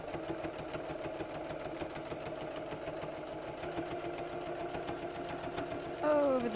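Stitching through several layers of felt on a bunny door hanger, a sewing machine hums and knocks steadily and closely, with a fast regular beat, while a person talks over it.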